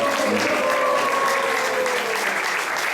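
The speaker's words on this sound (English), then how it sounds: "Let's give a round of applause for all these Prabhupada disciples who spoke very beautifully." A temple congregation applauds a group of speakers, dense steady clapping that stays loud throughout, with a voice or chant-like tone lingering faintly beneath it.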